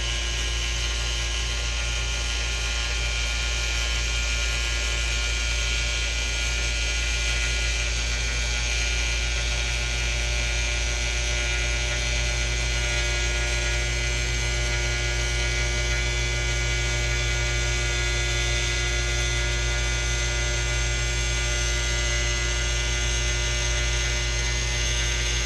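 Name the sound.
needle cutter machine running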